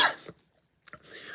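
A man coughs sharply, a short harsh burst followed by a quieter second cough, close to the microphone, with brief silence and faint room noise after.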